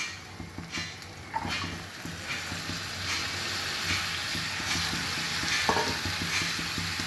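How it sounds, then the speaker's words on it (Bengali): Ground spices and chili powder frying in a pan for a ridge gourd and egg dish, stirred with repeated rhythmic scrapes over a continuous close sizzle. "এখন আমি এটাকে নেড়ে চেড়ে নেব"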